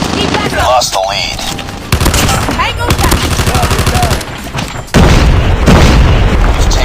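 Call of Duty Mobile gunfire: loud repeated shots and rapid automatic bursts with booming impacts, packed close together and mixed with game sounds and voices.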